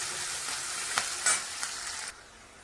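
Browned onion fries with ginger garlic paste in a pan, a short burst of close, steady sizzling with a couple of spatula scrapes before the sound cuts off abruptly near the end.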